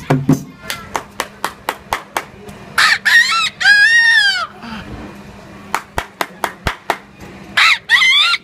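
A street performer imitates a rooster crowing with long warbling vocal calls, set between rhythmic claps and a steady low hum; the crowing bursts repeat loud and close.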